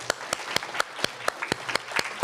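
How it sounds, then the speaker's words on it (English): Audience applause at a faculty reading, heard as a small crowd clapping in a regular, fairly sparse rhythm with distinct individual claps. "Can we have another round of applause for Kimiko Hahn?"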